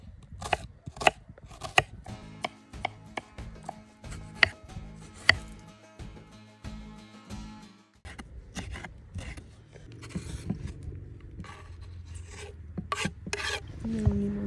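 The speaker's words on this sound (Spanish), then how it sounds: "Voy a hacer un picadito de cebolla." A knife chops onion on a board in a home kitchen, with quick rhythmic taps for the first half, then a rougher, busier scraping and clattering, close and fairly loud.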